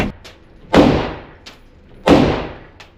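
Two sharp, loud gunshots from an Auto-Ordnance 1911 .45 ACP pistol, about 1.4 seconds apart, each with a short echoing decay, plus a couple of faint clicks in between.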